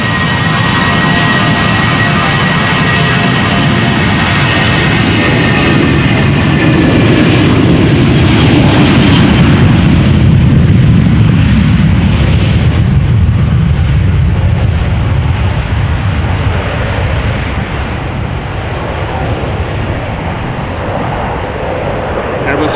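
A British Airways Airbus A320 airliner bound for London Heathrow at Amsterdam Schiphol gives a steady broadband jet roar that swells toward the middle, then slowly eases, with talk over it.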